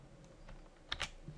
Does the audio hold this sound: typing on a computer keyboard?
yes